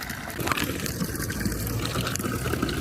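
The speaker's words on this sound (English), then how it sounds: "Look at that, it's a water fountain." Water runs steadily from a public drinking fountain on a Budapest street, a close, continuous splashing gush with no voices over it.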